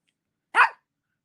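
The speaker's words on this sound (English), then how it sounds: "hears the barking" A single short dog bark, sharp and fairly close, rings out once in otherwise near silence.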